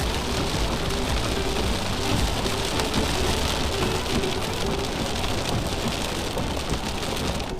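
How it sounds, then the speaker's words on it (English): Heavy rain pounds steadily on a car while driving, a dense, loud, continuous hiss and patter with no talking. "It's raining real bad."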